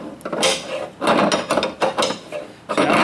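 Close, loud mechanical ratcheting as a bracket on a fabrication setup is tightened, bursts of clicking and grinding in uneven strokes with short gaps between them.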